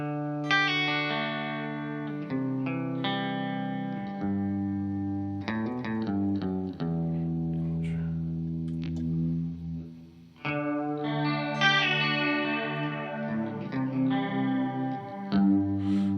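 Electric guitar played through a Walrus Audio Fundamental Chorus pedal on its medium setting: shimmering, wavering chords and picked notes ring close and steady for the whole stretch, with a brief dip near the middle and no talking.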